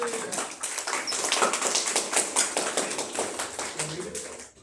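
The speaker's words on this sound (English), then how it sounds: "Clap it up." An audience claps to welcome a speaker at a talk, with dense, steady applause over a murmur of voices that cuts off abruptly at the end.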